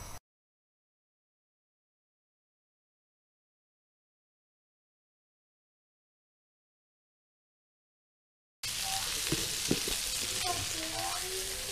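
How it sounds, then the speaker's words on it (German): Meatballs fry in a little oil in a pan, a steady sizzle that starts abruptly after a long silence and continues loud and even, with a few faint clinks over it. "jetzt braten wir Buletten. Pfanne an und los. Ein bisschen Öl rein."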